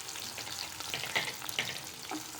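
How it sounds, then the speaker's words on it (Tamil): Chopped onion and garlic sizzling in hot oil in a pan for a Tamil garlic kulambu, a steady, fairly soft frying hiss with light crackles and occasional stirring scrapes. "இந்த வெங்காயம் கட் பண்ணி வச்சுக்கிறத போடுறேன். இப்போ அது கூட பூண்டு கட் பண்ணி வச்சுருக்கதையும் போட்டுக்கிறேன்."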